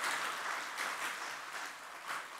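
An audience claps warmly at an event at the Amanah Youth Creative Hub in Aceh, a thick, sustained wash of many hands with gentle swells in intensity, heard with no talking over it.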